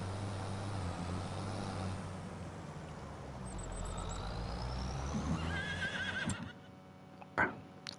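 A horse in the Farming Simulator 25 video game neighs loudly near the end, following a stretch of steady vehicle rumble and game ambience.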